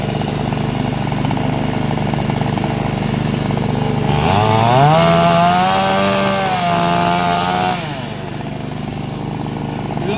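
A loud power saw roars steadily during a fire and rescue service training demonstration, its engine pitch dropping and straining as it bites into wood for a few seconds, then easing back to idle.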